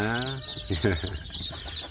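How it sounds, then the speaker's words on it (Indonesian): Fifty newly hatched free-range village chicks cheep and peep busily together inside a box, close and continuous, with a voice briefly heard at the start. "memelihara anak ayam kampung dalam satu box"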